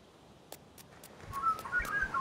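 Birds in the Dinkum video game give a few short, high whistled chirps, spaced apart at first and then bunching into quick warbling calls over a soft ambient bed.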